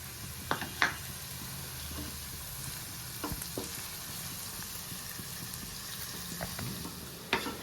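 Onion pieces sizzle in hot oil as a bitter gourd fry is cooked, a steady frying hiss broken by a few scattered scrapes and clinks of stirring, close and fairly quiet, with no talking.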